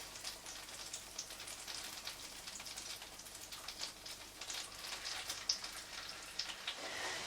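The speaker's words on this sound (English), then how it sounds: "we're going to add this to our remaining butter in the pan" Sliced lamb's liver fries in butter in a pan over low heat, giving a faint, steady crackling sizzle with scattered small pops throughout.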